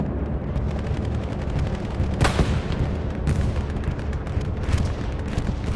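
An Axis bombing run over Omaha Beach in Hell Let Loose, with rumbling explosions and bursts of gunfire from a distance, loud and sustained with no voices over it.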